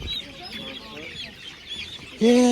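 Chickens cluck in a busy poultry market, a steady stream of clucks and calls with a louder burst near the end, voices of people audible in the background.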